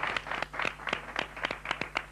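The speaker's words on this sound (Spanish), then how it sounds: "Yo creo que se merece un aplauso muy gordo." Scattered clapping from a small audience, a run of uneven hand claps that stays fairly soft and steady throughout.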